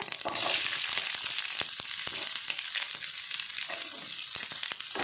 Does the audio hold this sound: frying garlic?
yes